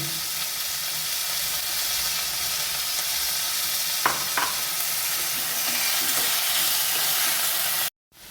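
Minced chicken seasoned with black pepper and salt, with ginger and garlic, sautés in a pan with a constant, even sizzle, broken by a couple of brief scraping stirs midway before cutting off abruptly.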